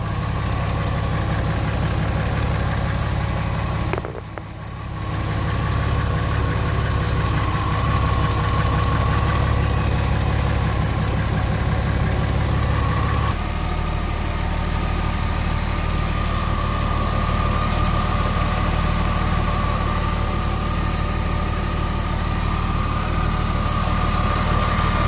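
A 2000 Porsche 911 Carrera engine idles steadily up close, a constant low rumble with slight vibration and a brief dip partway through; no voices.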